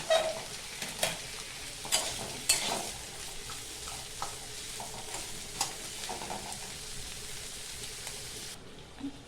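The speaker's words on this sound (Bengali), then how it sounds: "নুন দিয়ে আস্তে আস্তে এটাকে একটুখানি হালকা ফ্রাই করে নেব।" Rice with salt lightly frying in a pan for pulao, a soft steady sizzle with occasional stirring scrapes and clinks, close and moderately quiet, no talking.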